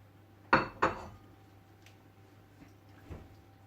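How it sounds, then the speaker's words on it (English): Pepperoni mixed into pasta in a pan, with two sharp clinks of a utensil against the pan followed by softer scraping and a faint knock, nearby with no voices. "Give that a mix up."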